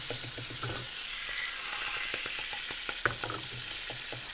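Butter, about four tablespoons, sizzling and melting in a pan over low heat for chili oil, a steady close-up crackle with small pops and no talking.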